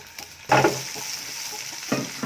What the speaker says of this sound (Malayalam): അപ്പോൾ ഓയിലൊക്കെ ഒന്ന് ചൂടായി വന്നിട്ടുണ്ട് ഇനി ഞാനിവിടെ ചേർത്ത് കൊടുക്കുന്നത് ഉണക്കമീനാണ്